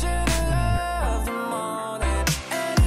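A short stretch of a song by a Singaporean artist, a full, dense music mix with shifting tones and a deep bass line that drops out midway, playing alone without talking.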